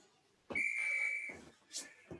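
A sharp whistle blast signals the end of a workout interval in a HIIT yoga session, one long shrill tone followed by a short second blip, fairly quiet, with no talk.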